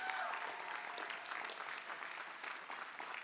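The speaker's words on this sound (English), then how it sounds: "Let's give him a round of applause." At a college commencement ceremony, an audience gives a steady round of applause, a continuous dense patter of many hands that stays even throughout, with a faint voice or whistle briefly audible near the start.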